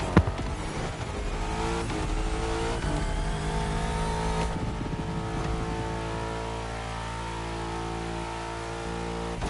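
Mercedes-Benz twin-turbo V8 hybrid engine accelerating in The Crew Motorfest racing game, a steady, loud, continuous engine roar with harmonic pitch shifts as it revs through the gears, no voices.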